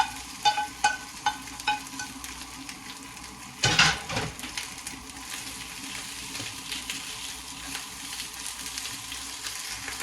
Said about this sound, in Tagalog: we are going to add our onion and garlic